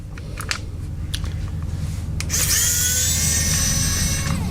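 Screws come out of a card payment terminal during a teardown: a few light clicks and taps, then a loud, steady whine from a small electric screwdriver spinning up close.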